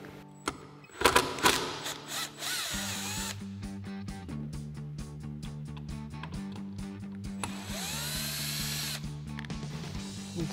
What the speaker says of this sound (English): we'll grab our T25 Torx bit on our impact and go ahead and remove these real quick